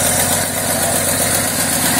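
A Ford Falcon Futura with a freshly rebuilt engine and new wiring, starter and plug wires idles steadily, a loud, even rumble with a fast regular low pulse and constant broadband rush, close to the engine with no talking.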